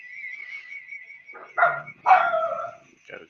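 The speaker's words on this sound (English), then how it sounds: "Got a dog." A small dog, an excitable ankle biter, barks in a few sharp bursts near a quiet indoor art stream, with a steady high tone running underneath and a short yip at the end.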